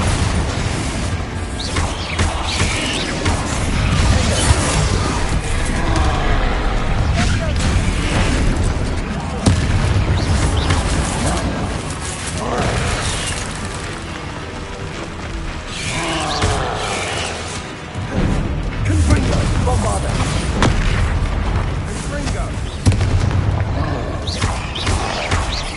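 Bombarda and Confringo spell explosions in Hogwarts Legacy, a dense barrage of loud booms, bursts and crashes repeating throughout, with a voice shouting spell names over the chaos.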